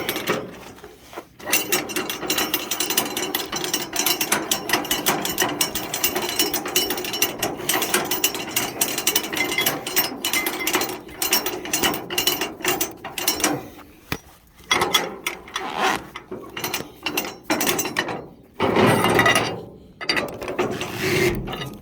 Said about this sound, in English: I just gotta roll my strap up.